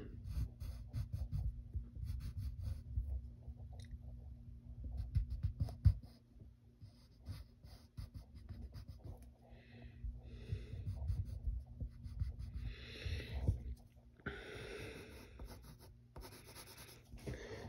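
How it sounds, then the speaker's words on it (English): Pencil drawing eyebrows on paper for a Hulk sketch, close soft scratchy strokes in short bursts with pauses, quiet and alone. "And then we'll draw his eyebrows"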